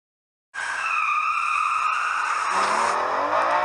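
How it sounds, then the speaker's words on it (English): A performance car launches hard from a standstill, engine roaring loud and close as the tires squeal and skid, the pitch climbing through the pull with a gear change partway. "Since this is a performance car, I'm going to launch it."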